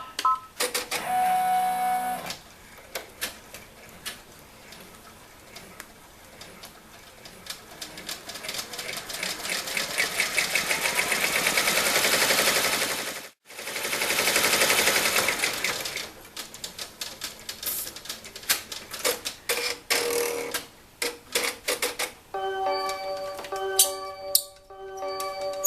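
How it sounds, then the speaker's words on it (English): A sewing machine stitches a seam on a zipper bag in rapid mechanical rattling bursts, broken by short pauses, with a voice talking at times. "I'm going to put it back on my machine, and I'm going to stitch this seam right here"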